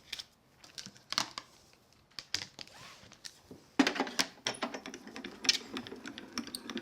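A die cutting machine cuts a piece from a descending die, heard as a series of close, sharp clicks, taps and crinkles in irregular bursts, growing busier toward the end, with no talk.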